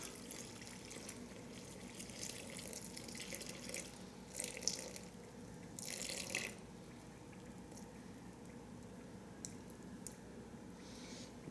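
A steady pour of 85 °F water, about 1,000 grams, runs into a container on a kitchen scale for bread poolish, a soft continuous trickle and splash with a few brief louder gushes and no talk.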